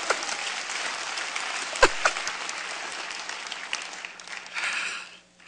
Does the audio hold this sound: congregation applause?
yes